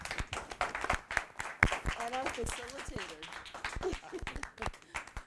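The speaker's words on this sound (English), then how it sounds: "I just want to give a really big round of applause to our fabulous panel" A conference panel audience gives a round of applause: dense, steady clapping from many hands running throughout, with a voice speaking over it.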